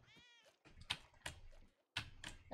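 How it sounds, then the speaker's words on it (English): Cats meow in the Spelunky 2 video game, one clear drawn-out meow up front followed by several shorter, nearer cries spread through the rest of the moment. "I hear the cats."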